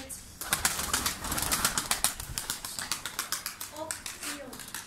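Domestic pigeons take off and fly overhead, wings clapping and flapping in a quick rhythmic burst, fairly close. Someone speaks faintly in the background.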